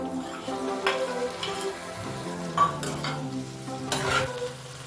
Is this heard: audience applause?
no